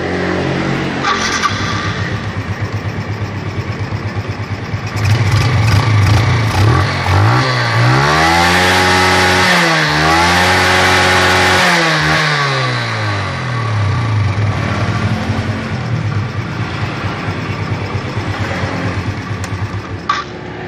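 A Yamaha Jupiter Z motorcycle running a cheap aftermarket carburetor idles loudly and close, then is revved twice in smooth rising-and-falling sweeps before settling back to a steady idle.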